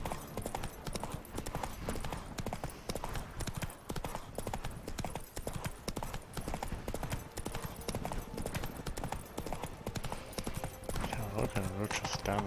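Rhythmic clip-clop of a horse's hooves galloping steadily throughout, loud and close, from the Witcher 3 video game set in Toussaint, with some game noise and voice mixed in.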